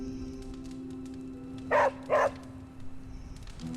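Dog barking in the video game Midnight Suns, two quick close barks in a row over a quiet ambient game background.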